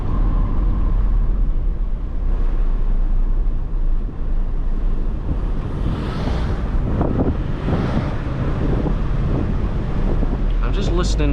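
Steady wind rush buffeting through car windows opened slightly while driving, a constant loud broadband roar with faint voices beneath it.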